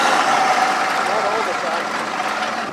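A 700-horsepower ranch truck's engine roars loudly and steadily at three-quarter throttle, a dense continuous drone filling the whole moment.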